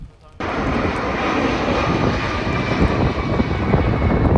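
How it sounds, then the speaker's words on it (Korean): A low-flying airplane on landing approach passes over a coastal path, its engine roar filling the clip steadily and loudly after a brief quiet start. "비행기 착륙하는 비행기 길이 그쪽에 딱 들어와 있어서"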